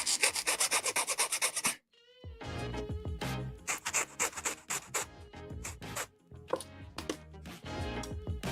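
A nub on a plastic part from a 1/144 HG Bandai MS-07B Gouf Gundam kit is filed or sanded with a quick series of about nine rhythmic rasping strokes. Softer, irregular scraping and handling noises follow, all fairly quiet and close.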